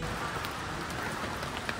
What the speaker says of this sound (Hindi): बारिश हो रही है यहाँ